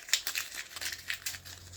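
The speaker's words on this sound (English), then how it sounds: "we hear some paper, being crushed," Close, crackling paper wrapping from a bar of soap being crumpled and scrunched in rapid uneven bursts, fairly quiet, with no voices.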